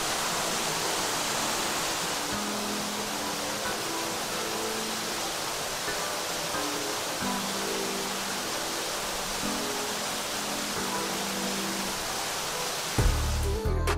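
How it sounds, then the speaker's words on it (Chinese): A desert waterfall at Indian Canyons roars as a steady, dense wash of falling water, loud and constant throughout, with a brief bump of wind or handling near the end. "我们在沙漠里走了好久，终于走到这个瀑布了。"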